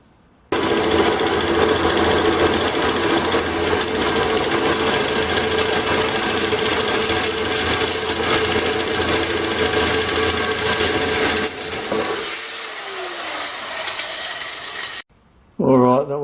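A VEVOR heavy-duty sheet metal nibbler chews through 1mm stainless steel heater ducting, a loud continuous rapid mechanical chatter with a buzzing whine that runs steadily, dips briefly near the end, then cuts off abruptly.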